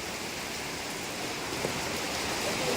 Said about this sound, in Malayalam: എത്ര നേരമായി മഴ തുടരുകയാണ്?